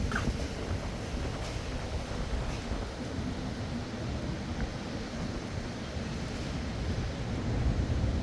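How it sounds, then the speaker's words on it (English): Strong wind sweeps down a New York City street on Charlton Street, buffeting the microphone with a loud, rumbling roar that stays steady throughout. "I don't mind windy, but when it's too windy, man,"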